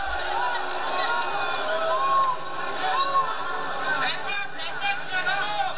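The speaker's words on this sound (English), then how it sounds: "And the crowd is into it, Ronnie." A dense crowd roars and cheers at a boxing match during round three, a steady wash of voices with scattered whoops rising over it, while commentators talk throughout.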